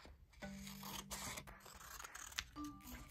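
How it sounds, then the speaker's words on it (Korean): Scissors snip through colored paper while trimming away excess for a folded paper craft: a few close, crisp cuts and rustles, with no talking. "가위로 잘라서 버릴게요."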